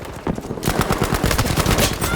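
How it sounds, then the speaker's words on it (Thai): Rapid automatic gunfire from the World War II shooter game Battlefield V rattles in a loud, continuous burst after a brief quieter moment. "ตรงนี้มีคนยิงปืน"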